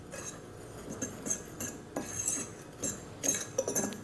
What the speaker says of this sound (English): we're just gonna mix that up so that everything gets incorporated together